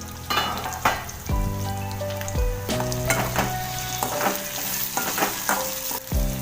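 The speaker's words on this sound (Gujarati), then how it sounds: "તો તેને પાછું આપણે હલાવી લઈશું" Spiny gourd (kantola) shaak being stirred in a pan, a steady sizzle broken by scraping spoon strokes and clinks, with a few brief tonal hums in the background.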